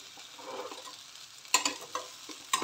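Poha being stirred in a frying pan gives close, soft scraping and light sizzling, with a few sharper spoon scrapes and clatters against the pan near the end.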